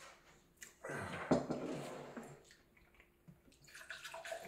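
Fizzy diet cola such as Pepsi Max or Cola Zero pours with a fizzing, splashing rush that swells near the start and then settles into a softer hiss of bubbles, close and alone.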